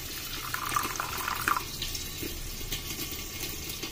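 Water poured over a tablespoon each of white sesame and poppy seeds to soak, a steady close trickling pour with faint splashes throughout.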